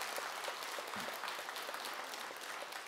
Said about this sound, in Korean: 자, 박수 한번 치세요.